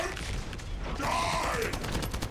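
A precision bomb attack in The First Descendant hits with a burst of crackling, rapid impacts and a whooshing mechanical sweep, followed by a fast string of sharp pops in the game's loud combat noise.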